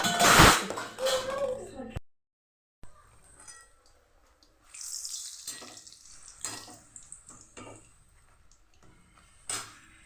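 Semolina is rinsed under running water in a kitchen, with intermittent gushes and splashes from the tap. A voice talks at the start, and the water returns in several uneven bursts.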